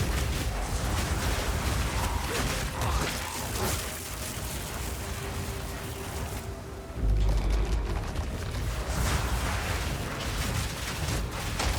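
Rumbling explosions and booms in Path of Exile 2 burst repeatedly over dense, noisy gameplay sound, with one heavy low thud partway through.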